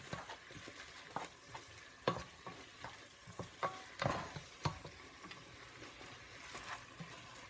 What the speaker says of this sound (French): Nous allons mettre nos poissons ici avant de mettre l'eau.